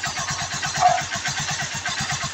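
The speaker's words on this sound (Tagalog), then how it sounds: "So, umaandar yan. Tahimik yung makina niya." Honda Supremo 150 motorcycle engine running after an engine refresh, a quiet, even idle with a steady regular low pulse and no knocking, heard close.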